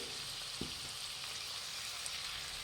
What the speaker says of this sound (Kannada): ಮಸಾಲೆ ಜೊತೆ ಒಂದು 5 ನಿಮಿಷ ಚೆನ್ನಾಗಿ ಫ್ರೈ ಮಾಡಬೇಕು ಇದನ್ನು